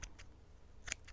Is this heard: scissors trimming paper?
yes